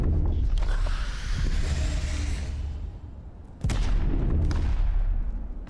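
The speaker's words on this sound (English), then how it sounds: "There's a guy shooting a gun right there." Gunfire in the video game Cyberpunk 2077, a loud close boom that rolls off into a fading rumble, followed by a second sharp blast and another decaying tail.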